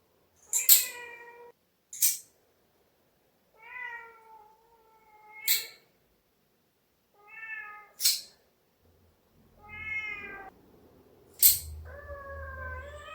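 A cat meowing loudly and repeatedly while having its nails trimmed, long drawn-out protesting cries spaced a second or two apart, close by, with a few sharp brief clicks between them.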